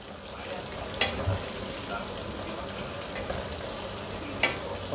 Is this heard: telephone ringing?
no